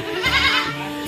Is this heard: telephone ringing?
no